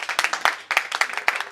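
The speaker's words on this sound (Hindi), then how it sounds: "तालियां सरकार के समर्थन के लिए कि बिल पास करा दिया।" Clapping from lawmakers in parliament backing a women's reservation bill comes as a short burst of sharp, uneven claps, close and loud, with a brief gap partway through.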